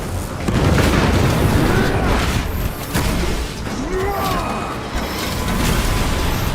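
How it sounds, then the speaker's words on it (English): Frag grenade blast in Warhammer 40,000: Space Marine 2, a loud booming explosion rolling into sustained rumbling debris and battle noise, close and heavy throughout. "Frag grenade deployed."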